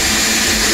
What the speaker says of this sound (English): we're just going to vacuum right through the tube